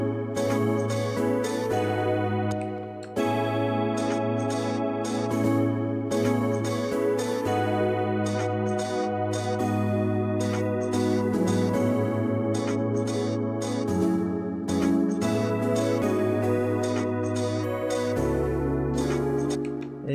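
A disco-style synth sequence plays over sustained chords, a steady electronic loop with bright pulsing notes and a clear bass line, all of it fairly quiet.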